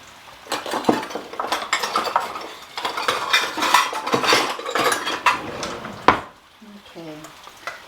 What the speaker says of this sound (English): now I'm just going to scoop my batter into the muffin pan